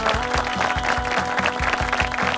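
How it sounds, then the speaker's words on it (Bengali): An audience at a televised talent-hunt grand finale applauds a winner at an award moment. Dense clapping blends with a steady, regular thumping beat, loud and continuous. "ওয়ান্স अगेन জোরে একটা করতালি চাই ফর সাকিব।"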